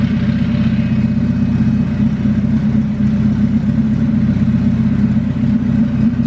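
Honda Civic with a D16Z6 engine, Brian Crower cam and E85 flex-fuel tune idling with a steady choppy lope, close and loud, with no voices.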